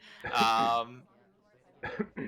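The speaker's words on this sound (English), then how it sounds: "the laser was on Irish while she was coughing" A female character in the SpyParty video game gives a short, loud cough-like burst, followed after a pause by brief voiced sounds, with talk around it.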